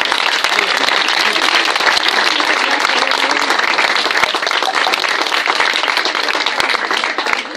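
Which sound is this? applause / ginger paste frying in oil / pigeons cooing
applause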